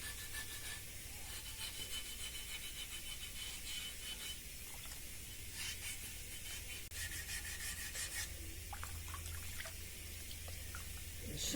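Alabaster stone rubbed by hand with wet sandpaper, a steady close rasping scrape that continues without a break under a low background hum.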